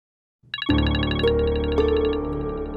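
A phone ringtone starts abruptly after a brief buzz and plays a bright, repeating electronic melody, loud and alone, in a drama scene.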